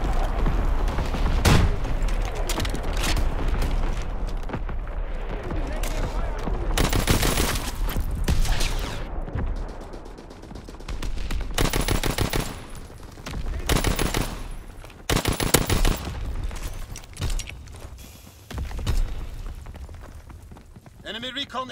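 Call of Duty WWII artillery barrage and gunfire: rapid bursts of fusillade and heavy impacts crackle continuously, with sharp loud volleys and thumping blasts recurring throughout, mixed with game noise.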